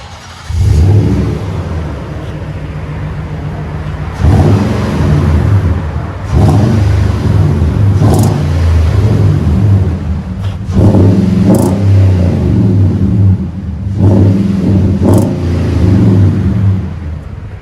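A Nissan Titan SV 5.6L V8 with a MagnaFlow exhaust revs repeatedly, deep rumbling blips rising and falling in loud bursts with brief idle gaps between them, close by.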